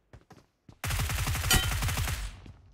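A few sharp taps, then a sustained burst of rapid automatic gunfire in PUBG Mobile, loud and rattling before tailing off.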